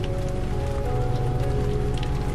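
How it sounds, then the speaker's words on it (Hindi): Heavy rain pouring down, a dense steady hiss of drops falling on surfaces that stays loud and unbroken throughout. "बारिश भी काफी तेज है"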